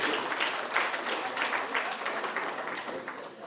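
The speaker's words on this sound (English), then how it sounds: "Can we give him another round of applause?" Audience at a corporate social responsibility presentation for public enterprises applauding a speaker, a dense wash of clapping that stays fairly steady and fades slightly toward the end.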